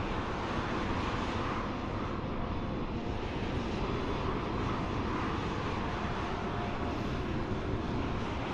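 An Airbus A320neo arrives at Dublin Airport in Microsoft Flight Simulator 2020, its engines making a steady, broad roar that holds at an even loudness throughout, with no talk.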